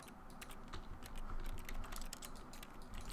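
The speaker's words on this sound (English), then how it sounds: "Pressing keys here." Steady, rapid clicking of keys on a computer keyboard during a gaming session, continuous and moderately quiet over a constant background hiss, with no talking.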